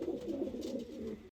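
Racing pigeons cooing in their loft, a soft steady run of low throaty coos lasting just over a second, fairly quiet and close.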